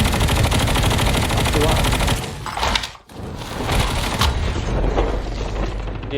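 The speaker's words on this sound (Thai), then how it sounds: "ได้ยินเสียงปืนลั่นอยู่ข้างหน้า" Dense, rapid bursts of gunfire in Call of Duty Mobile battle royale run almost continuously, dropping out briefly once before resuming amid other loud action noise.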